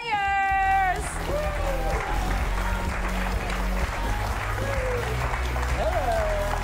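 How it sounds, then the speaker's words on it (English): Audience applause for the Curious Comedy improv players at a comedy showdown, dense clapping and cheering throughout after a brief amplified voice, with occasional whoops rising over the crowd. "Give a warm round of applause to the Curious Comedy players"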